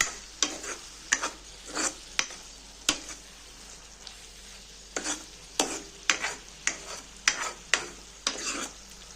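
A spatula stirs spinach bhaji with salt in a pan, giving a series of about a dozen distinct scraping strokes in a loose rhythm over a soft sizzle, close and clear.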